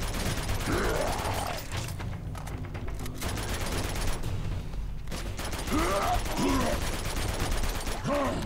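Rapid bursts of gunfire in the action game Uncharted 2: Among Thieves, dense repeated shots in volleys with pauses between them, loud and continuous, with a person talking over the action.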